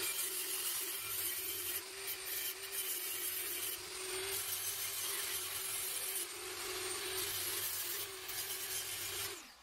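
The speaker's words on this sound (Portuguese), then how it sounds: "Eu venho com a lixa, a mesma 1500, encostando mais" A 45-degree joint being sanded by hand with 1500-grit sandpaper gives a steady, close rasping rub that runs without pause, rising and falling slightly in strength.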